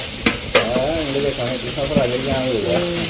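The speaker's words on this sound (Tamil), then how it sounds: "இப்படி குண்டா இருக்க தக்காளி பழம் கொஞ்சம் கரைஞ்சி வதங்கணுமல்ல" Tomatoes sautéing in a pot while being cooked down for biryani, with a steady close sizzle, a few sharp stirring clinks and scrapes, and a melodic background tone running underneath.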